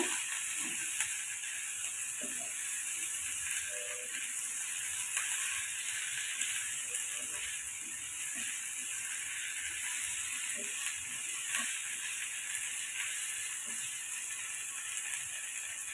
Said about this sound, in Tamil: ரெண்டு நிமிஷம் நம்ம சிம்மில் போட்டு வதக்கி விட்டு எடுத்துக்கோங்க